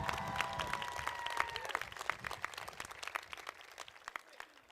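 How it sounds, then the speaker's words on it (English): Audience applause at a high school graduation ceremony honoring exchange students, a dense wash of clapping from a large crowd that holds steady with scattered louder claps, faint tonal sounds early on. "One more round of applause for our wonderful exchange students."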